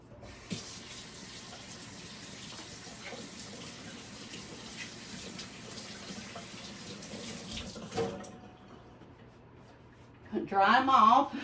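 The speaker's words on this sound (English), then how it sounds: "Now, I'm going to rinse my fingers." A kitchen tap runs steadily as fingers sticky from homemade biscuit dough are rinsed under the stream. The water flows for several seconds, then stops, and a voice follows near the end.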